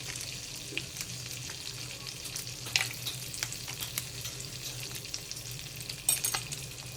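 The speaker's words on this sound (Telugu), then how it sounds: "అలాగే కొంచెం ఆయిల్ కూడా వేసుకుందాం. మసాలా దినుసులు వేసుకుందాం." Whole spices sizzling in hot oil and butter for homestyle butter chicken, a steady close crackle with a few sharper pops, no voices.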